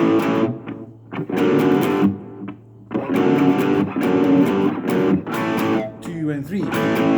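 One-finger electric guitar riff from the verse of a rock song, loud, distorted chords in choppy bursts with short gaps between phrases, played alone.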